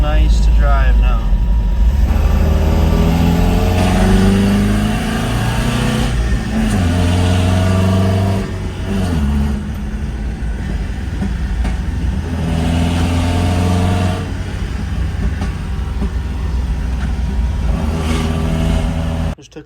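A 1981 pickup truck fitted with side draft Weber carburetors drives along, its engine revving and droning steadily close by, with a voice talking over it.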